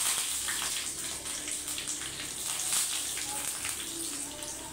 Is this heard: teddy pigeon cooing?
no